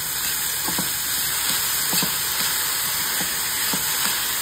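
Leafy greens tossed into hot oil over fried onion sizzle steadily, with a soft continuous hiss and a few short stirring scrapes recurring every second or so, close and moderately loud, no one talking.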